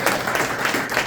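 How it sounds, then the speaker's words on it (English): Audience applause at a book launch in Montreal, a steady wash of many hands clapping throughout, fairly loud and close with no speech over it. "I want everybody to give her a round of applause for Dexter"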